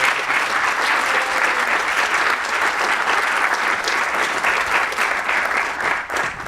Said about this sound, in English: Can you please give them all a round of applause?